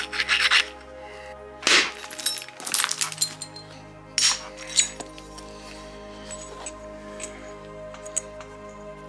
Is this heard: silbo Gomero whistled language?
no